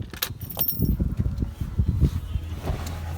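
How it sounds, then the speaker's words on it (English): Two car keys for a Porsche 911 Carrera 4S 3.6 996 jangling together, a close, bright metallic rattle lasting a few seconds. "This particular example comes with 2 keys"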